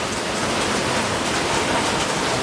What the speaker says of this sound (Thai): ฝนตกฝนตก กทมตกหนักนะครับ